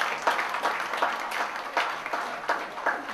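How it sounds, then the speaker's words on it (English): Audience applause for George Yew at a public policy speech, a steady patter of many hands clapping at moderate loudness, not very close, with no talk over it. "So a round of applause for George."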